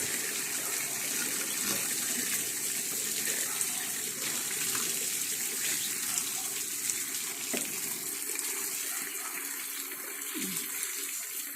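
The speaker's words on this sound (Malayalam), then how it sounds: "ഇത്തിരി വെള്ളം ഒഴിക്കാം മതി." Water is poured over a child at bath time, producing a continuous close splashing and gushing wash that fills the whole stretch, with faint voices in the background.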